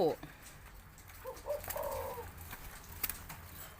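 Spotted dove, a large-bodied dove kept as a songbird, cooing in a few soft, low hooting notes at moderate distance over quiet room background.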